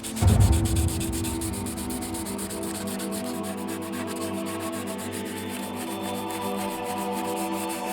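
Steady rhythmic sanding of spot putty on a painted helmet, a dry scratchy rubbing repeated in quick strokes, close and continuous throughout, with a brief thump at the start.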